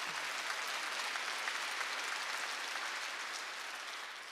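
A congregation at a Wednesday church service claps together in a long, even roar of applause that holds steady before tapering slightly at the end, heard at a distance without speech.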